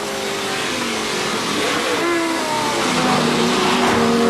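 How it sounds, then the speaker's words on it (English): V8-powered modified race car entering the Rifle Bend during a 1991 Wesbank Modifieds race at East London, a loud sustained engine roar with rising and falling pitch as cars pass close by. "Listen alongside, you'll hear Willie Hepburn's V8 as they come into the Rifle Bend."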